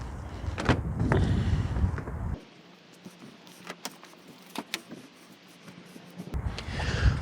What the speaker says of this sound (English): the first thing to do is to open all the doors, and that's what I'm going to do now.